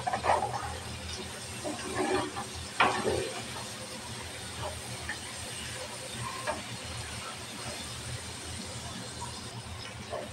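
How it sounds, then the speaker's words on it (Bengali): Chopped onions fry in hot oil as cooking for a fish dish gets under way, making a steady sizzling hiss with a few sharper crackles and stirring bumps near the start. "দিয়ে দেবো তেল, দিয়ে দেবো পেঁয়াজ কুচি। পেঁয়াজটা ভালোভাবে ভাজে নেব।"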